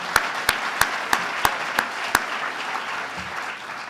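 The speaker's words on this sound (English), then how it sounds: "So huge round of applause for Jesse" A handful of sharp, loud claps land in a steady rhythm at an awards night, set against a soft background of broader applause that fades toward the end.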